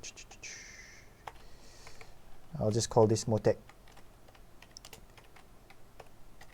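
Fingers tap a computer keyboard in a quick burst of close, crisp clicks lasting about a second, while someone talks before and after.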